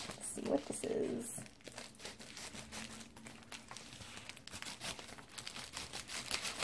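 A package being opened up close: plastic wrapping crinkles and tears steadily for several seconds, with a faint voice early on.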